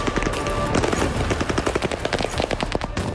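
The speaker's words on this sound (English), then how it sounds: "Gunfire renting the air and smoke filling the scene" Rapid, continuous bursts of automatic gunfire in the Russia-Ukraine war, loud and dense, rattling on without pause for several seconds.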